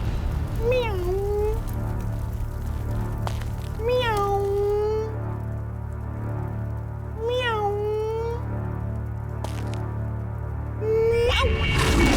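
A cat meows four times at spaced intervals, clear and nearby, over a low steady background hum.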